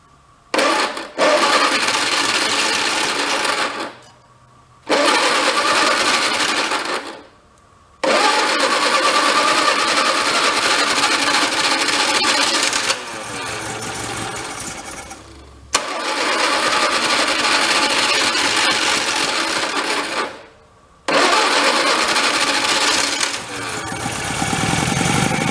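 An MG TD engine, parked for 45 years, cranks on its starter in several long bursts separated by pauses, a loud, whirring, rhythmic churn heard close by without catching.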